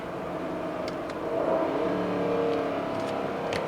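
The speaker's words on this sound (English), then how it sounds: "It revs the engine before it does the shift." A 2021 Dodge Durango R/T engine hums steadily, then briefly climbs in pitch with a quick rev as the ZF transmission rev-matches a downshift, before settling again, heard from inside the SUV.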